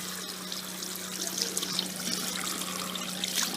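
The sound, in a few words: running water from a tap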